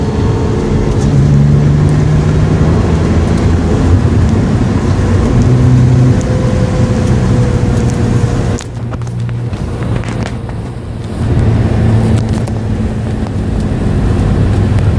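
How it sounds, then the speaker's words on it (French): A Renault EOLAB's combustion engine revs up loudly in a steady drone, dips briefly as it drops away for a few seconds, then returns to a steady running hum with faint background noise. "t'as vu le thermique il accélère comme un rétrogradage classique et après il s'éteint"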